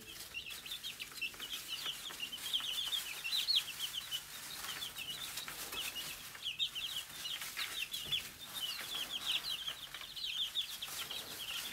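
Chickens cluck and chatter continuously inside a coop, a busy overlapping flock of moderate loudness with no talking.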